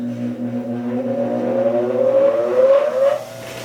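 Cheap bench grinder with new flanges spinning up, a rising motor whine that climbs steadily in pitch over a low hum, then settles as it reaches speed, fairly loud and close with no talking.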